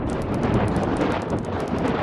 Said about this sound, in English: Why is there lightning everywhere?